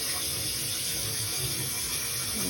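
Water runs steadily from a faucet into a kitchen sink, a continuous close rushing hiss with no pauses or talking.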